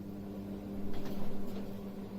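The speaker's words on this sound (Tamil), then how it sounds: "மைக்ரோவேவ் ஆன் பண்ணிட்டு ஸ்டார்ட் கொடுத்துட்டு அகைன் 1 மினிட்." An LG microwave oven runs in a kitchen, giving a low, steady hum with a faint fluctuating whir, fairly quiet and uninterrupted, with no talk.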